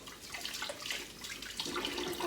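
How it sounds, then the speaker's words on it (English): Chickpeas rinsed under a running kitchen tap, a steady close splash of water with no talking, lasting a couple of seconds. "Just give them a wee rinse."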